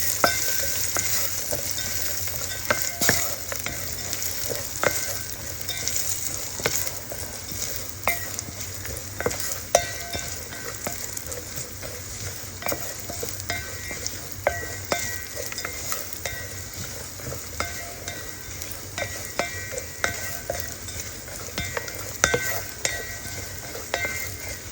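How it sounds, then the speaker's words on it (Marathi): Dry fruits frying in about two teaspoons of ghee, a steady sizzle with frequent spoon scrapes and clinks against the pan, close and continuous with no talking. "असे फ्राय करून घेते ड्रायफ्रूट."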